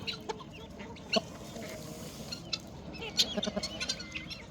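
Roosters and hens on a poultry farm give faint clucks and scattered calls over a steady background murmur, with a few sharper knocks and pecking sounds as they feed.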